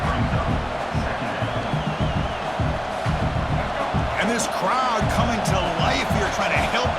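Stadium crowd in a College Football 26 video game swelling into cheers after a defensive stop, a dense continuous roar with rising excitement over game commentary.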